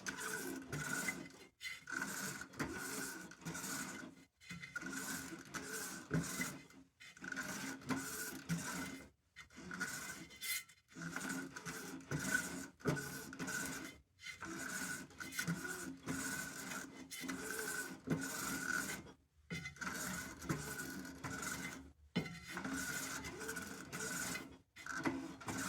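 A Shopsmith retapping threads in cast iron Stanley 80 thumbscrews: a steady mechanical whir and grinding rasp in repeated short bursts with brief gaps, close and fairly constant in level throughout.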